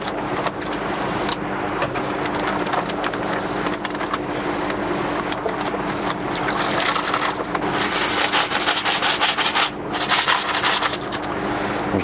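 Tap water running steadily into a kitchen sink while snails are rinsed, a continuous close splashing rush with small shifts in intensity as the flow hits the snails and basin.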